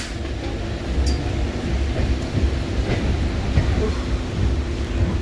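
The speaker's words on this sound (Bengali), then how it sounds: "12 মিনিট লেট করে কিন্তু আমাদের ট্রেনটা ছাড়লো।" A Kolkata Circular Rail local train pulls away from the platform, its low rumble and rhythmic wheel clatter building steadily, with faint background chatter on board.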